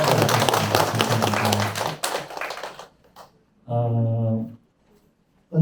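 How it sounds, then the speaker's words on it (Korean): An audience at a publisher's talk gathering in Seoul claps in welcome, a dense burst of applause lasting about two seconds before fading, followed by a brief spoken voice. "그럼 다 같이 박수로 환영을 해드리겠습니다"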